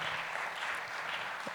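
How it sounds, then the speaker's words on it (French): An audience claps steadily at the end of a conference talk, a continuous wash of applause that stays fairly soft throughout. "On peut vous applaudir."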